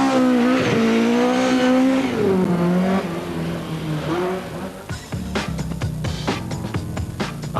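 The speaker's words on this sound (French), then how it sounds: "Retour en Turquie et action avec Christophe Jacobs qui démarre derrière nous." A 2003 WRC Rally of Turkey car launches from the start, its engine revving loudly through rising gear pulls before fading off, followed by sharp pops and crackles from the stage.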